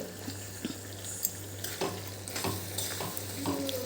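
Jaggery being stirred into a raw mango curry in a pan, with repeated scraping strokes over a steady low sizzle, close and fairly quiet.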